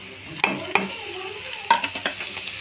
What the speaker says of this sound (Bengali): দিয়ে এটাকেও ছকে নেব ভালো করে ভেজে নেব মশলাটাকে